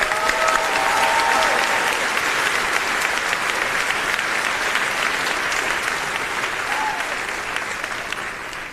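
A graduation ceremony crowd claps steadily, a broad continuous wash of applause that stays loud and even throughout, slowly easing toward the end.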